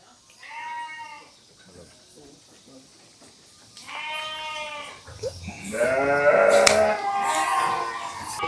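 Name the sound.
sheep during shearing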